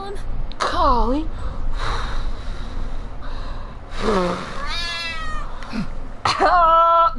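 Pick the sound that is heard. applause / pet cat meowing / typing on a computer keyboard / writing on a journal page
pet cat meowing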